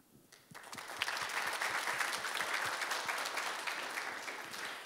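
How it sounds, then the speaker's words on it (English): An audience at an academic event on digital and computational learning and teaching applauds the presenters and organizers, a steady dense clapping that rises quickly and holds evenly to the end. "I think all the presenters need a round of applause"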